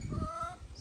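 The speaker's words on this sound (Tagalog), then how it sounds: "Yung mga manok natin. Hello, chicken! May manok din kami dito" A few soft, low clucks from a chicken, brief and fairly faint, with no talking.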